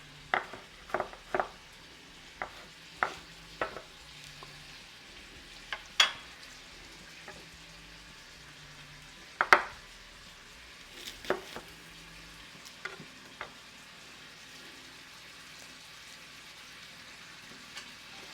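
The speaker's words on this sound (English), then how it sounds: "I'm going to get you a shot of the bacon cooking" Bacon sizzles quietly in a pan as its fat renders, a soft steady frying hiss broken by a series of sharp clicks and pops, some louder than others, with no one talking.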